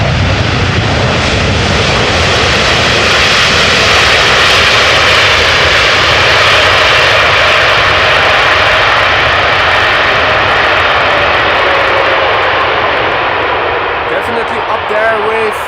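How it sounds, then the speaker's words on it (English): A China Southern Cargo Boeing 777 jet landing, arriving from Guangzhou, with a loud continuous broadband engine roar that stays near and overwhelming for the whole stretch. "This was China Southern Cargo, Boeing 777 arriving from Guangzhou."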